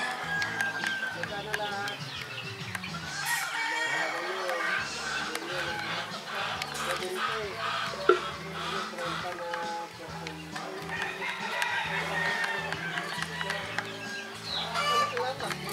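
Crowing and clucking from gamefowl, including a black Hatch rooster, with several birds calling in a busy yard over steady background noise; a person talks quietly at times.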